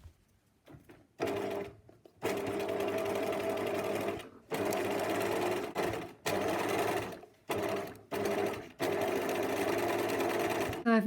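A sewing machine stitches a narrow fabric casing for corset boning, running in several bursts of steady whirring separated by short pauses, close and clear with no talk.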